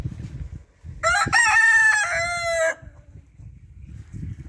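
A rooster crows once, loud and drawn out, between stretches of quiet low rustling and soft background noise, among small hens.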